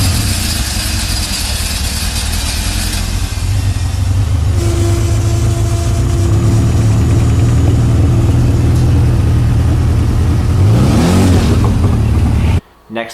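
A loud Bugatti Veyron Super Sport engine idles and revs nearby, its deep rumble rising and falling with throttle blips over a steady roar before cutting off abruptly at the end.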